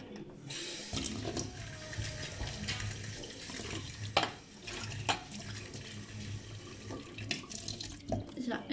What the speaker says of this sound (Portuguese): Convém sempre lavar um bocado aqui os nossos coentros. Eu vou passar por água corrente,